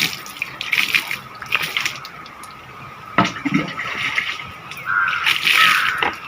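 Water splashes and sloshes as a wooden cradle of maruthu planks is rinsed and scrubbed by hand, with uneven bursts of scrubbing and pouring close by.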